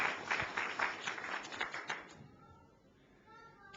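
Church congregation claps together, a brief burst of scattered hands that is fairly close and lively, then fades out into quiet room tone after about two seconds.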